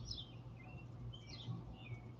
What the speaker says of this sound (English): Sitting out here, you can hear the birds, a little bit of a breeze.